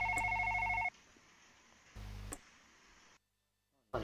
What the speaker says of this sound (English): Stop ringing, you fucked up phone.